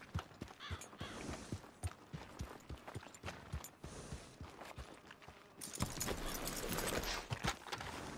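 Horse hooves clip-clop in the game Red Dead Redemption 2, a steady run of sharp, close impacts that continues throughout, growing busier and brighter near the end.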